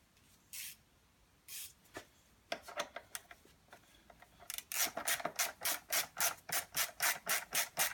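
Ratchet tightening an 8mm bolt on a Mazda Miata seat; a few isolated clicks, then a fast run of rhythmic ratcheting clicks, close and crisp, with no talking.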